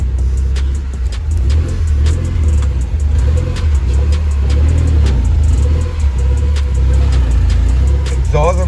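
A Suzuki Jimny engine rumbles loudly through its exhaust, with a deep steady drone and sharp ticking clicks on top, while background music plays.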